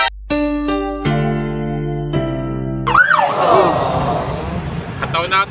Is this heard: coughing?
no